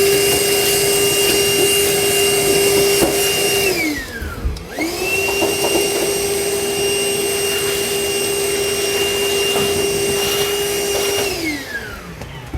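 Shop vacuum running steadily while metal drill shavings are cleaned up during installation of a Demco Hijacker above-bed base rail kit in a 2017 Ram 2500 bed. The motor whines loud and close, dips briefly as if blocked, recovers, then winds down near the end.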